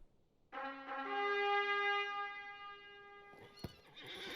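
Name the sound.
war steed horse neighing in LOTRO video game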